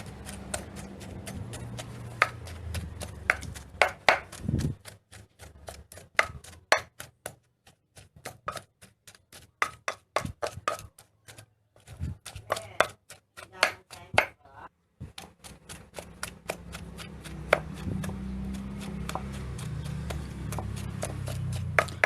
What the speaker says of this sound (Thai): โขกให้ละเอียดเลยค่ะ